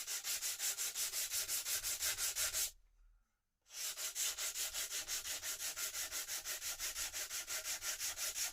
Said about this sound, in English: now we're just going to sand this back very gentle